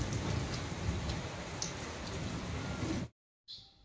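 Rain falls in a steady, even patter throughout, then cuts out abruptly near the end before a brief return.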